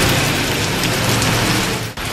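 Heavy rain pouring down in Tunceli, where the Munzur river overflowed, a dense steady hiss that holds loud and even with no talk before a brief dip near the end.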